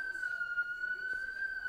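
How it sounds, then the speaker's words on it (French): A siren sounds during a public eloquence talk, a steady high sustained tone with faint harmonics held without a break, moderately loud indoors, with faint voices beneath. "on va attendre que la sirène s'éteigne"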